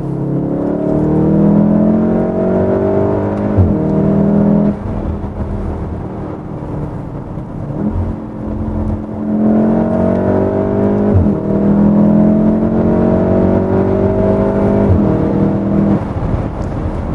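Volkswagen Golf R accelerating hard under full load with three people aboard, half a tank and a full boot, heard from inside the cabin as loud, repeated rising engine revs with brief gear-shift dips.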